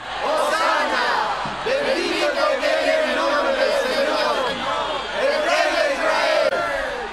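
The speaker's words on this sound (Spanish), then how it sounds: "las muchedumbres que iban a la fiesta, oyendo que Jesús se acercaba a Jerusalén, tomaron ramos de palmas, salieron a su encuentro y se pusieron a gritar" A dramatized crowd on Palm Sunday shouts and cheers in Spanish as Jesus nears Jerusalem, many overlapping voices crying out together in loud, rising and falling bursts.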